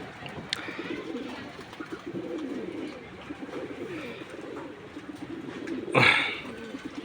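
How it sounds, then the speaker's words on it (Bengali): Pigeons bathing outdoors, soft low cooing running steadily close by, with a sudden brief burst of flutter or splash near the end. "বহুদিন পরে কবুতর বাইরে গোসল করতেছে আজকে।"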